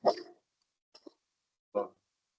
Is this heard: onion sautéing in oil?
no